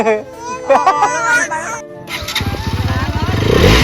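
Voices talk nearby, then a motorcycle engine fires up close by and revs with a rapid, throbbing pulse that grows louder.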